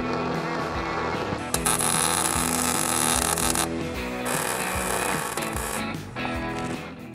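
Tack welding a mount for an electric power steering conversion on a Suzuki Samurai, a steady buzzing crackle over a constant electrical hum, strongest in a sustained stretch near the middle, with no talking.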